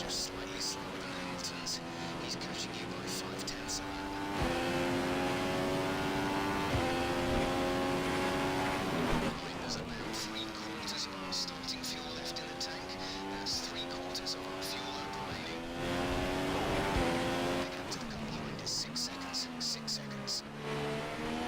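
Formula 1 car engines scream through rising and falling gear shifts during a Spanish Grand Prix race in the F1 2015 video game, loud and continuous, with a voice talking over the racing.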